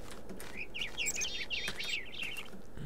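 Birdsong in a Minecraft Technic modpack world: a run of bright, repeated chirps and tweets of moderate loudness, steady throughout and heard without talk.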